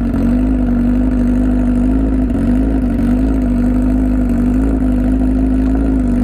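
Honda CBR1000RR Repsol Edition motorcycle engine warming up at a steady, loud idle, a low throbbing drone holding evenly throughout without revs.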